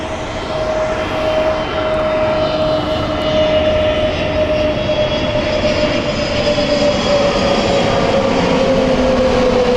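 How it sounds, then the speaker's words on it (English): An Emirates jet airliner at Heathrow Airport makes a loud, steady engine roar with a sustained whine, continuous and close, with no talking. "Update also, Emirates is inbound soon."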